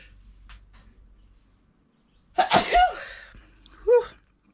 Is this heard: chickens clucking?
no